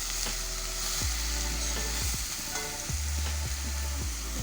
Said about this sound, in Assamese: ভাজি থকা তেলখিনিতে মই পিঁয়াজ দি দিছোঁ, এইফালে তেজপাত দিছোঁ আৰু কাটি থোৱা চব্জিখিনিও এনেকৈ দি দিলোঁ আৰু এনেদৰে অলপ দেৰি ভাজি থাকিম